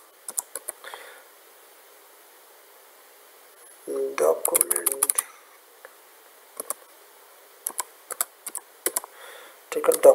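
Keys clatter on a computer keyboard as JavaScript code is typed, arriving in short irregular bursts with a denser flurry midway, close and fairly quiet with pauses between.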